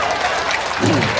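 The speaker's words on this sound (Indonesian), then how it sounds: "tepuk tangan" Brief burst of audience applause at an Islamic religious question-and-answer lecture in Indonesia, loud and steady for about a second, with a voice rising at the end.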